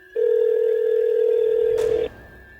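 A telephone signals an incoming call with a single steady electronic tone lasting about two seconds, loud and close, then cutting off into quiet.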